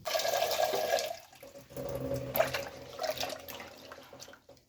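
Moong dal being rinsed in a bowl of water in a home kitchen, with close, continuous sloshing and trickling that pauses briefly partway before resuming more softly.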